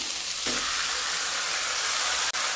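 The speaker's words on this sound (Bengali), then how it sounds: "সমস্ত সবজিগুলোকে হালকা ভেজে নেওয়ার পরে এবার ম্যারিনেট করা চিকেনটা দিয়ে দেব।" Marinated chicken drops into a pan of lightly fried vegetables for chicken pish pash, and a loud, dense, constant sizzle fills the clip from start to finish, with a brief stirring scrape.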